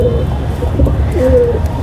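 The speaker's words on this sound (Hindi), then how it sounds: "अभी ये कुछ ही कबूतर यहाँ पर दिखाई दे रहे हैं" Pigeons coo up close at a home pigeon loft, soft throaty warbling calls repeating over a steady background hum.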